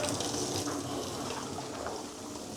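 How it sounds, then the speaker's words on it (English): Cooked noodles are drained, a steady wash of pouring water splashing into a sink, close and continuous for a few seconds with no one speaking. "So once your noodles are ready, you can drain that off,"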